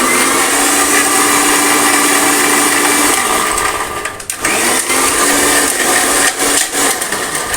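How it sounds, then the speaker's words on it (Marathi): A mixer grinder grinding tamarind whirs loudly and steadily, its motor pitch dropping and stuttering briefly as it pulses and restarts. "चिंच पण आपण थोडी मिक्सरमध्ये"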